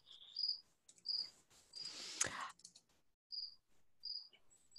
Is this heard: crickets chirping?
yes